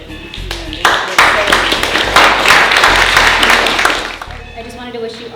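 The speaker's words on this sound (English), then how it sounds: "Please, a round of applause for Elbogen and DC." An audience at a San Diego talks event breaks into sustained applause, building quickly and holding loud for several seconds before tapering off.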